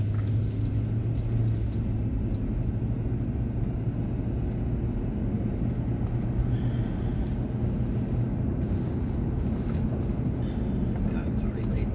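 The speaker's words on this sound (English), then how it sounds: "Traffic is wretched, isn't it?" Road traffic rumbles in a low, continuous drone that stays steady throughout, with no distinct passing vehicles standing out.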